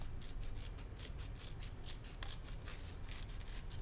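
Decorative craft scissors snip through paper for a collage in a quiet run of repeated crisp cuts, faint and close, with no voices.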